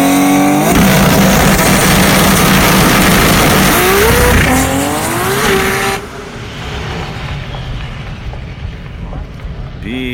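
A 1900-horsepower drag race car launches at Sydney Dragway during testing with a thunderous engine roar and heavy tyre shake. The pitch sweeps upward as the car pulls away, then the sound drops off to a fainter, receding rumble.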